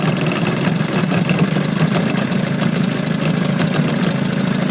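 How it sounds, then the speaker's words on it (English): An Evinrude 40 HP outboard motor on a Boston Whaler boat, idling low and steady on a lake test, with a close, continuous, even engine drone and no talk. "real pleased with the way this motor's running. We're able to run at a nice low idle. Engaging forward."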